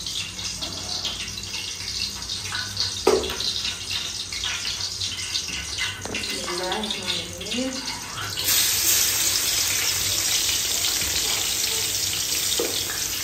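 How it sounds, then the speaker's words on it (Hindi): Hot milk poured into a cooking pot over a frying chicken karahi base of ginger and garlic, a steady rush that sharpens halfway through into a louder hissing, sizzling pour, with faint clinks of utensils near the start. "अभी दूध हमारा गर्म हो चुका है, इसमें डालते हैं।"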